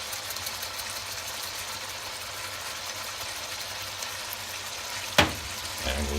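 Steak searing in a hot pan, a steady close hiss and sizzle that continues throughout, with a brief clatter near the end.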